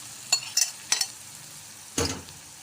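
Sliced okra hits a pan of frying masala of softened tomato and onion and is stirred in, giving a few soft scraping clinks and a brief sizzle against a low background hiss.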